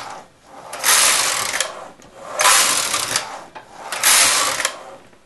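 Domestic knitting machine with a ribber, its carriage swept back and forth across the needle beds in three long passes, each a loud mechanical whirring rattle separated by brief pauses, close up with no talk.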